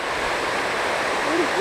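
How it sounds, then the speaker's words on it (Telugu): Water flows over the Pedderu project dam in a broad, steady rushing roar. The sound is loud and close, and it carries on alone with no break. "ఈ వాటర్ ఫ్లోయింగ్ అటువైపు ఉంది, అది కూడా చూడండి ఒకసారి."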